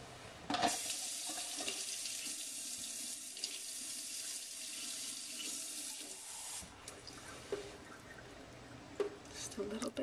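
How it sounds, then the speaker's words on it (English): Hot water pours from a tap while rhassoul clay is being mixed, a loud steady gush for about six seconds that then stops, followed by quieter handling sounds. "Let's add some more water."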